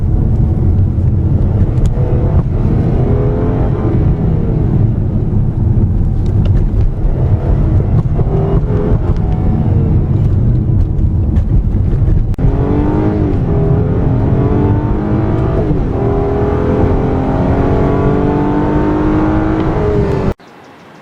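A 2015 Hyundai Genesis with a 3.8L V6 engine drives on curving roads, its engine humming loud and steady throughout, rising in pitch under acceleration, with tyre and road noise underneath.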